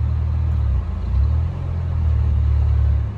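Chevy S10 truck engine idling and running with a low, steady rumble that dips and swells as the transmission shifts between gears, close and fairly loud with no talk.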